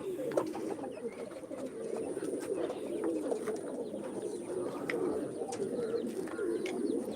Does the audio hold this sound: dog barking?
no